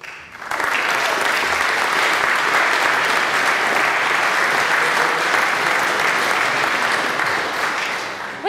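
A chapel audience at a Millbrook School alumni weekend ceremony applauds returning alumni, a dense, steady round of clapping that holds loud and even for about eight seconds before easing slightly.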